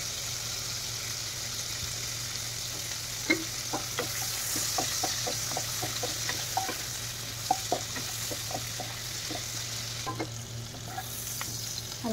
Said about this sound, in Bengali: হালকাই ভাজবো চিংড়ি মাছ